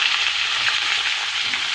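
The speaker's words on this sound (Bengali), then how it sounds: "এবার আমি এতে দিয়ে দেবো ফুলকপিটা আগে দেবো, হালকা ভেজে নেব।" Cauliflower frying in hot oil with cumin and bay leaf, a dense close sizzle with steady crackle throughout and no talking.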